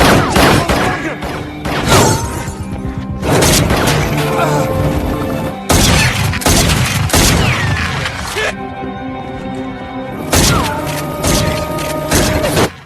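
Gunfight in a crime film about a mafia boss storming a prison: loud, dense bursts of gunfire, booms and crashing impacts that come in heavy waves with only brief lulls.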